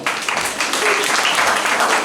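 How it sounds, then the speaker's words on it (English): A school assembly audience gives a sustained round of applause, a thick, continuous wash of many hands clapping at once with no clear pauses. "So let's give God a clap hand again."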